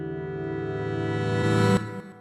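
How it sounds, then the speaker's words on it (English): A synthesized riser sound effect swells steadily in volume and brightness for nearly two seconds, then cuts off abruptly and leaves a short fading tail. "So this first sound is a kind of a riser sound."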